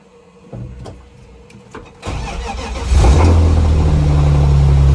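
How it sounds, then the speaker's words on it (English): A BMW M3 with its S54 engine, exhaust hanging loose with every bracket broken, is cranked after sitting parked in a shed; a few faint clicks lead to the starter, then the engine catches and settles into a loud, rattly idle. "So you can hear that rattling. Basically the exhaust is completely every bracket is broke off it."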